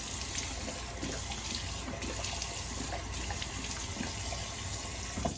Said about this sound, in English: Rinse the last of that off.